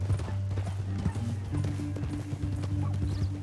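Horse hooves clip-clop steadily in Red Dead Redemption 2, a busy rhythmic trot close by under low game music and ambient hum, with a brief whinny mixed in.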